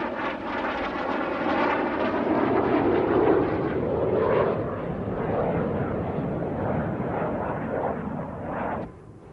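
A loud, steady Martin B-57 Canberra jet bomber engine roars continuously for several seconds as it starts up, a broad rumbling whine that drops off abruptly near the end.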